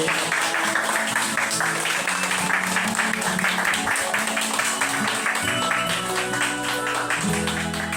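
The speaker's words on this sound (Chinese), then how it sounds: "请给自己掌声鼓励" An audience applauds after a teacher-and-student choir performance, producing sustained, dense clapping throughout with faint tonal voices or music beneath it.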